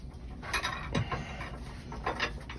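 A bolt is fitted through a Sumo Springs frame bracket on a 2014 Ford 53 chassis under a Thor ACE 29.2 motorhome, with a few short, close bursts of metallic ratcheting and clicking.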